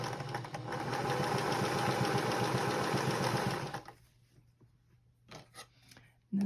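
A sewing machine runs in a steady fast whirring stitch for several seconds while sewing binding onto a star table topper, then stops, followed by faint handling clicks and fabric rustle.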